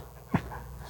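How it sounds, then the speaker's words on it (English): Small dogs give a single short whimper, close by and brief, in an otherwise quiet indoor room at a house. "you have these little dogs that are all around here"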